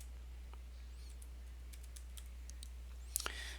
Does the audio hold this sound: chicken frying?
no